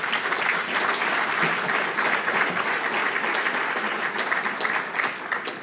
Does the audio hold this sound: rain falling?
no